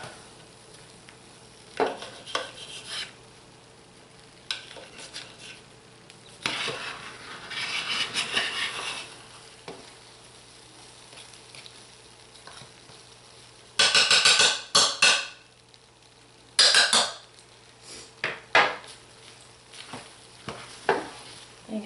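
Thick turmeric and paprika soap batter stirred in a crockpot, giving scraping, sloshing strokes in irregular bursts, some loud and close, separated by quieter pauses.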